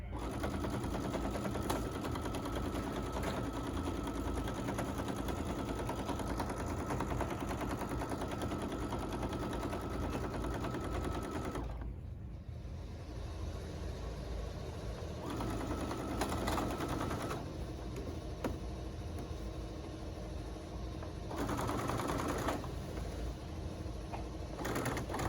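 A sewing machine edge-stitches skirt fabric in fast rattling bursts, running steadily, pausing briefly, then starting again in shorter runs, close and clear with no talking.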